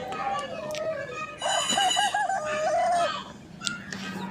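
A rooster gives one long, loud crow in the middle, rising and holding before trailing off, with quieter farmyard background before and after.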